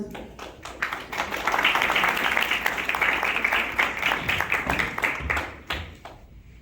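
Sustained audience applause at a school safety patrol ceremony, many hands clapping densely and steadily for several seconds, swelling early and tapering off near the end.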